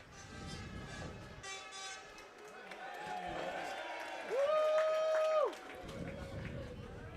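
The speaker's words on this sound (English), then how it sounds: "the truck honked" A truck horn sounds near a baseball game: a steady, loud blast for about a second near the end, over crowd noise and a busy mix of other tones.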